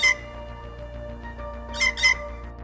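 A blue jay gives several short, harsh, squawking calls close by, with two louder bursts near the end over a faint steady background.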